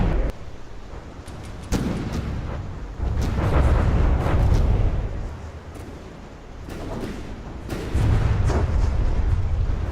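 Heavy booming weapons fire from support tanks in a video game battle rolls on continuously, loud, low blasts overlapping with sharp cracks and swelling rumbles.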